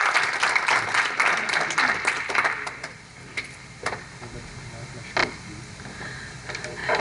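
Audience applause at an Urdu Academy literary tribute gathering, a burst of clapping that fades after a few seconds into scattered isolated claps, with a voice speaking over it.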